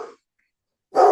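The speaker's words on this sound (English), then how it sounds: "Can you hear the barking dog?" A dog barks nearby in two short, loud bursts, one at the very start and one at the end, with silence between them.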